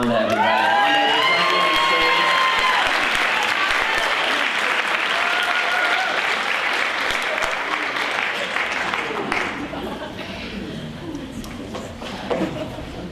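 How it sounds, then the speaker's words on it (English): Audience at a vaudeville show bursts into loud, sustained applause with cheering and whoops, dense clapping filling most of the stretch before tapering slightly near the end. "Round of applause for Rhonda, everybody."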